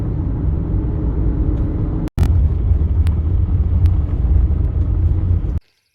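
A car drives on the road heading up to a trailhead, with a close, loud, steady engine and road rumble broken by a brief cut, then cutting off abruptly near the end.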